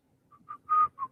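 A person whistles a few short, wavering notes, then holds a longer tone, close and fairly quiet against silence.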